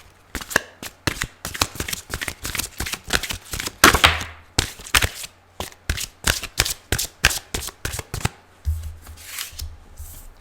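Tarot cards shuffled by hand for a love reading, a close series of crisp riffling bursts and flicks in uneven rhythm, loud and near, with no one speaking.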